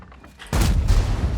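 A World of Tanks E 100 heavy tank's cannon fires at a Jagdpanzer, a single sudden loud boom followed by a rumbling, ringing decay, close and alone.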